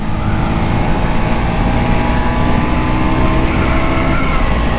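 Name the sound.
KTM RC 200 GP Edition motorcycle engine accelerating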